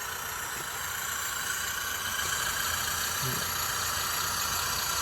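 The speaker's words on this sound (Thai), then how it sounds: "โอ้ยรถไถเราใช้งานหนักมากครับวันนี้ครับ" A tractor engine runs steadily under heavy load while pulling, a loud, continuous low drone with a constant rumble throughout.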